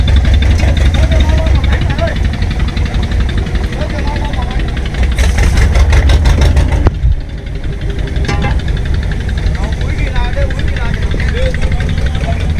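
A fishing boat's diesel engine idles off Phu Quy island, a steady low rumble running throughout with faint voices in the background.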